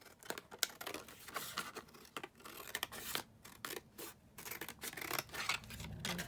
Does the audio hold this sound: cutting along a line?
yes